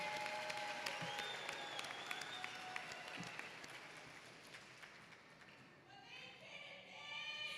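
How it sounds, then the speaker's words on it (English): A summer graduation audience for a city school district's graduating class applauds in a steady, moderately distant patter of clapping that thins near the end as a voice begins to speak. "Let's give them all a round of applause."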